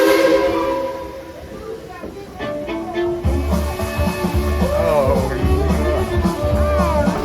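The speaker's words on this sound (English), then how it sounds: "Thomas, Casey Jones, let's get this train on back to town." Thomas the Tank Engine train at Tweetsie Railroad, a loud steady rumble of the running engine with a whistle-like tonal sound, continuous and close.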